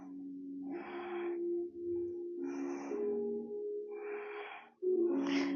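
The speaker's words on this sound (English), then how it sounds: "Two more big deep breaths." Deep breathing in a Pilates class: slow, audible breaths drawn in and out in a steady rhythm, four or five cycles over a sustained low musical tone, with no talking.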